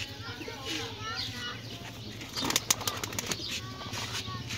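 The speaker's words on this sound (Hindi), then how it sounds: "डब वाला कबूतर है" Desi pigeons flap their wings close by, a soft fluttering burst with a few sharp wing claps in the middle, under someone talking in Punjabi.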